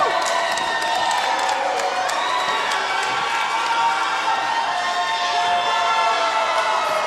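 A wrestling crowd at a tag team tournament cheers for Chupacabra and Johnny Dynamo, a dense roar of shouting and whooping with scattered claps, sustained and loud throughout.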